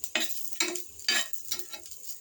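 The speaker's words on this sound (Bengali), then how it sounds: "এই যে আলুগুলো ভেজে নিব।" Potatoes frying in a pan, with about four brisk stirring scrapes in a steady rhythm over a soft sizzle, close and clear with no talking.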